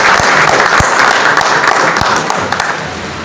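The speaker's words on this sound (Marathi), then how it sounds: "आपण सगळेजण एकदा टाळ्या वाजवून." An audience at a journalism award ceremony breaks into loud, sustained applause, a dense close-up wash of clapping with a few sharper individual claps and thumps standing out.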